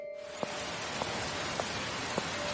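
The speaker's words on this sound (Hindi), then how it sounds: "छाता उठाकर अमन बारिश में निकल पड़ा।" Steady rain falls at night in a village, a dense even hiss close by, broken by a few faint, evenly spaced ticks.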